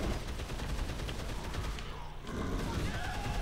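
Heavy weapons fire in Dead Island Riptide, a dense continuous barrage of loud rapid shots that dips briefly before resuming at full strength.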